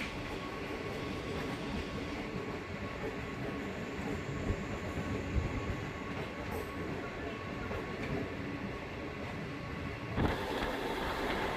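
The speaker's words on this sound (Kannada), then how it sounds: "ನಮ್ಮ ಟ್ರೈನ್ ಈಗ ಕೊಡಗನೂರು ರೈಲ್ವೆ ಸ್ಟೇಷನಿಂದ ಹೊರಟಿದೆ." MEMU passenger train running between Hubballi and Arasikere after leaving Kodaganuru station, a faint, steady rumble of wheels and carriage noise heard from on board, with a brief louder swell near the end.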